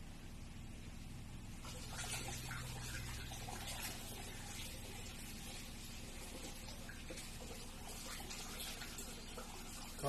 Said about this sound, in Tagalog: dagdagan pa po natin ang tubig.